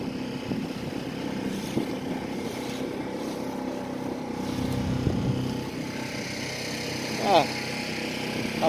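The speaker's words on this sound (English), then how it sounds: "So a motor's handy sometimes." A sailboat's auxiliary motor drones steadily on open Georgian Bay in an offshore breeze, a constant low hum with wind and water noise, and a voice speaks over it.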